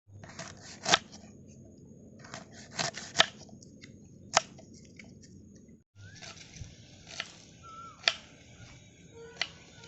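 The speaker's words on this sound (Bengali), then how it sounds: "রসুন কুচি কুচি করে কেটে নেব।" Knife chopping garlic finely on a cutting board in a home kitchen: quiet, irregular sharp taps spaced through the clip, close up against a soft background hum.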